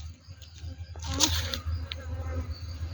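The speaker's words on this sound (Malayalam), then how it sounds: "അപ്പടി ഈച്ച ആർക്കുന്നുണ്ടല്ലേ" Flies swarm over a dead monitor lizard outdoors, making a faint, steady buzz with a brief louder burst in the middle.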